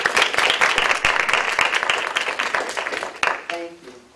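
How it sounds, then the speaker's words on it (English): Audience applause for program contributors at a university Black Studies event, lively clapping with distinct individual claps that builds early, thins out, and then stops as a voice begins. "Let's give them all a nice round of applause"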